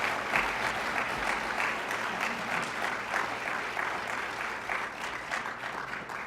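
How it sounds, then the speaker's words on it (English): A crowd at a sheriff's community crime summit gives a round of applause for an attorney, a steady, moderately distant wash of many hands clapping that holds evenly and eases slightly toward the end. "give Dan a round of applause"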